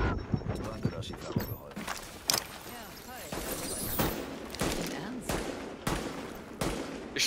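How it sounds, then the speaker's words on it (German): Rapid gunfire from blind shooting in the video game The Division, sharp bursts and single shots cracking repeatedly over several seconds, with people talking throughout. "Ich schieße einfach mal ins Blinde rein."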